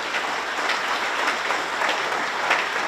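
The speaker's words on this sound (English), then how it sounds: "Let's give these members, staff members, a round of applause" A ceremony audience applauds staff members with continuous, dense clapping that fills the hall evenly for a few seconds, fairly loud and unbroken.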